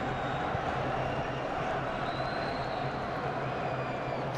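Large football crowd of about 38,000 supporters at Wembley, a steady, dense roar of murmuring and chanting that carries on unbroken throughout at a fairly even level.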